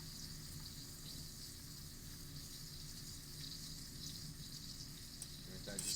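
Cold butter melts in a hot pan with a faint, steady sizzle and soft hiss that carries on evenly throughout, with a brief clink near the end.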